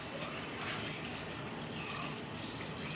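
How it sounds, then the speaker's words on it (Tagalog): Water is poured from a container onto cooked rice, a soft, steady splashing trickle that runs faintly throughout without any talk. "Lagyan natin ng tubig."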